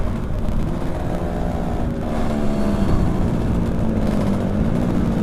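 A Yamaha F1ZR two-stroke motorcycle speeds along a quiet straight road at night, its engine droning steadily and loud up close, with continuous wind and road rumble and no talk.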